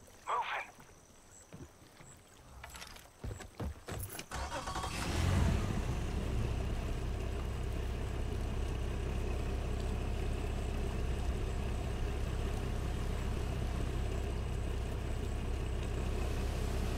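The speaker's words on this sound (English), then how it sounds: "Finally, a vehicle that actually moves. Not quickly, but..." A vehicle engine in the Far Cry 5 video game, starting after a few seconds of scattered clatter and then holding a steady, loud rumbling drone as it drives.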